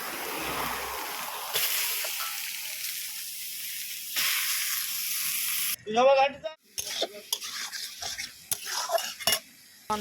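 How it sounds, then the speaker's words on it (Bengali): Greens and eggplant fry in a pan with a loud, steady sizzle at first. Later the sizzle gives way to a sparser mix of stirring, utensil clinks and pan clatter. "এবার আমি শাক বেগুনটা বসিয়ে দেব"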